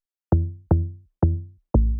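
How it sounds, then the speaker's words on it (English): Four deep, resonant log drum hits from a synthesizer plugin for amapiano music, each with a quick attack and a booming, decaying low tone, played alone in an uneven rhythm. "something that I was really happy to find was the log drum VST"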